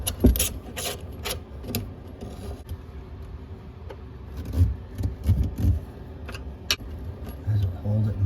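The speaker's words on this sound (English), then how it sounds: "We'll go ahead and crank this down." A wrench tightens the mounting nut under a YardMonet bathroom sink faucet, producing scattered close metallic clicks, clinks and ratcheting knocks in irregular bursts.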